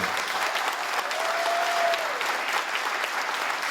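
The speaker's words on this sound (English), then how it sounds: "Let's give him a big round of applause." Broad applause from an audience at a high school athletic hall of fame induction ceremony, steady dense clapping filling the room for several seconds with no talk over it.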